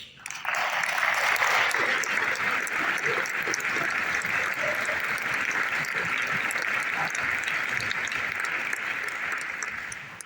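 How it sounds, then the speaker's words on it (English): A conference audience claps continuously at a developer event; the dense, even applause rises quickly and carries on at a steady level for ten seconds. "How about one more big round of applause for all of those 4 innovations?"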